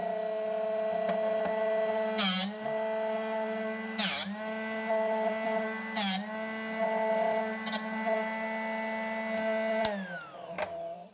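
A Drill Doctor drill bit sharpener's motor hums steadily with a constant tone, broken by several short bursts of grinding as a bit is pressed against the wheel; close by.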